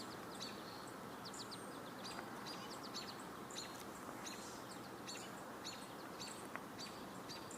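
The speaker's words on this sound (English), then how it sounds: "I'm also hearing, I believe, an American goldfinch" Outdoor summer birdsong with repeated high chirps and twittering phrases, including American goldfinch calls, scattered steadily over a constant, faint background hiss.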